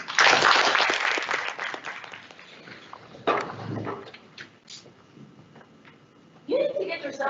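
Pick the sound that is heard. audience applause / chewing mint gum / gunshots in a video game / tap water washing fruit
audience applause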